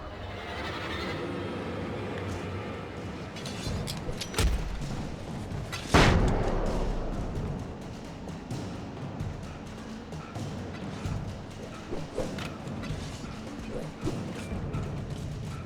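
Flashbang blasts in the video game Alan Wake: a few sharp booming explosions, the loudest near the middle, over a rumbling game soundscape, with scattered cracks and bangs around them.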